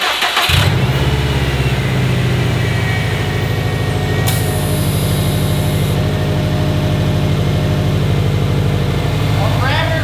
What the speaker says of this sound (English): That up pipe's a little noisy. The up pipe heat shield is broken, so it's being a little bit rattly